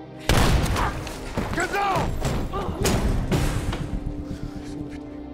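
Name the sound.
gunfire in an action film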